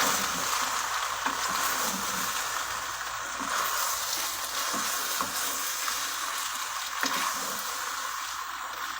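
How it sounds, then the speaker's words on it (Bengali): Potatoes fry in a hot pan on a home stove, giving a steady close sizzle broken by occasional scraping clicks of stirring, with no talk. "অলরেডি কটা আলু ভাজছি"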